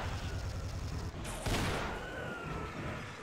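Burst rifle fire in a video game, a dense crackle of shots with a louder burst near the middle, set against steady game noise.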